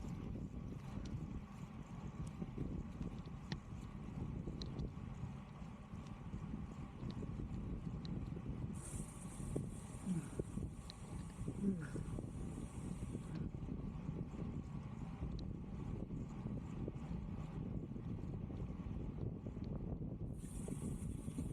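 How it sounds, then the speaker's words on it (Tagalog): Steady low rumble of tailwind buffeting a cyclist on the desert Al Wathba Cycle Track, continuous and fairly loud, with faint road noise and brief hissy bursts. "Yung hangin nasa likod na natin."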